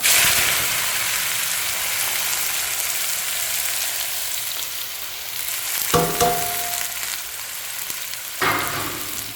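Sliced bitter gourd fries in a pan with a steady, close sizzle and crackle, plus a couple of brief stirring scrapes partway through.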